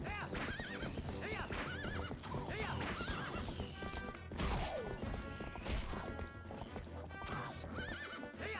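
Horse neighing and clip-clopping hooves in the video game The Legend of Zelda: Twilight Princess, with loud whinnies, clattering hoofbeats and crashing impacts amid game sounds, while a player talks over it.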